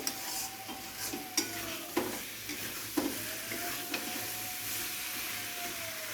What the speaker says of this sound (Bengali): এবারে সমস্ত কিছুকে খুব ভালো করে একসাথে কষিয়ে নিচ্ছি